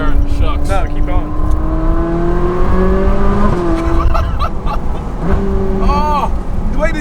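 A Ferrari 458 Spider's naturally aspirated high-revving V8 climbs and falls in pitch through several revs and gear changes from inside the car, with excited talk over the engine.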